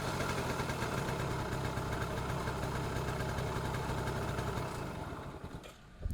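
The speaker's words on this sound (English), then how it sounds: "So as long as I'm always pressing the gas a little bit, it doesn't die." A Japanese scooter engine runs steadily with the throttle held slightly open, a close, loud, even buzz that sags and stutters at the end as it starts to die.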